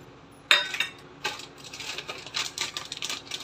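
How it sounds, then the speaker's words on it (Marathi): Dry chickpeas tumble into a bowl while sukha bhel is being assembled, giving a sharp clatter of hard little pellets striking the bowl, followed by a few softer rattling bursts as they settle. No one speaks over the sound. "चणे टाकून घेऊया।"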